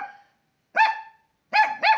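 A dog barks three times, sharp and close: a single bark followed by a quick double bark, with silence between them and no talk.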